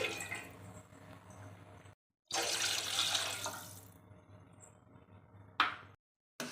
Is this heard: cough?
no